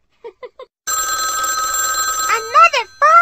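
Elmo toy telephone from Sesame Street ringing: three short chirpy beeps, then a sustained electronic bell ring with warbling tones, ending in a playful voice-like melodic sound, close and clear.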